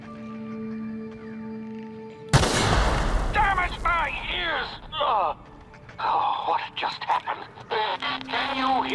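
Gunfire in The Outer Worlds on Xbox One X: a sudden loud shot cracks out, then short bursts and single shots continue amid game effects, with someone talking over them.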